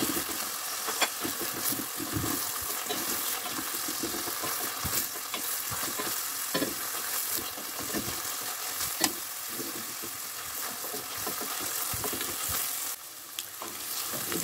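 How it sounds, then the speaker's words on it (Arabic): Onion and pepper sizzle steadily in a hot pan while being stirred. A continuous frying hiss is broken by frequent scraping and clicking stir strokes, fairly close and with no voices. "غادي نبقى نحرك البصله بحال هكذا حتى تشحر مزيان"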